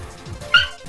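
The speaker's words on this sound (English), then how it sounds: "that's my dog's making noise." A pet dog gives a short whimpering yip, one brief sharp cry near the middle amid a low background rumble, heard up close with no talking.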